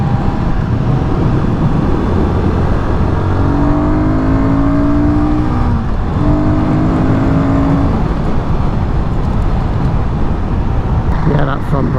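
A Royal Enfield Guerrilla 450 motorcycle accelerates on a test ride, engine note climbing through gears with a brief dip mid-way, loud and close under heavy wind rush.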